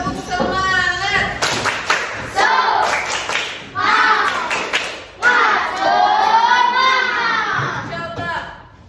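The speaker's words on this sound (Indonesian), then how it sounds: "Tepuk semangat." Classroom of young children doing the 'tepuk semangat' rhythmic clapping chant, sharp claps in quick patterns mixed with loud group chanting and a teacher's voice, close and lively.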